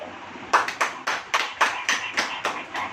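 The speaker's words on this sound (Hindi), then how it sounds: "ताली बजाओ।" A group clapping in a steady rhythm, about ten sharp claps spaced evenly, fairly close and loud, with faint room noise between them.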